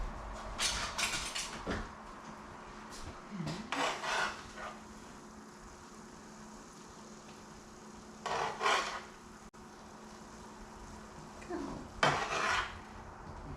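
Spoon scraping and stirring mushroom risotto in a pan, a few short bursts of metallic rubbing and clinking spaced apart with quiet pauses between them, close and fairly soft.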